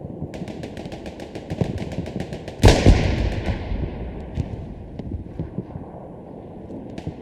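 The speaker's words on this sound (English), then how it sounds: "I wonder what we'll see with this bombing run, though." Bombing run in Hell Let Loose: a rapid string of distant popping blasts builds to one loud, close explosion, followed by a rumbling tail and scattered far-off cracks.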